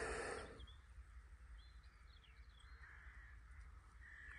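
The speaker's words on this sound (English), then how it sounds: "Looks like a newly fledged carrion crow on the wires there" A newly fledged carrion crow perched on overhead wires above chalk downland on the Isle of Wight gives a few faint, distant caws against quiet open-air background.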